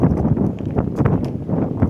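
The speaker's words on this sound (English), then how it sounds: "It is really windy, jeez." Strong wind buffets the microphone outdoors in steady low rumbling gusts, loud and close throughout, with no clear talk over it.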